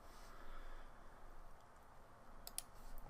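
Faint computer clicks sound against a quiet room hum while software is operated, with a short cluster of sharper clicks near the end and no voices.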